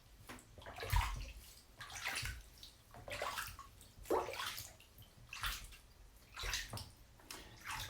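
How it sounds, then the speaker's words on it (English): Water sloshes and splashes in a bathtub in repeated surges, several seconds of moderate wet splashing with gurgles between, close by and with no voices. "Baptismal splash."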